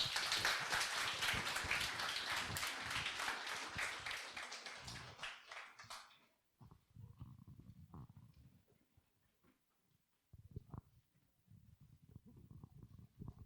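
A church congregation breaks into dense, loud applause that fades out after about six seconds, followed by faint scattered rustles and soft taps.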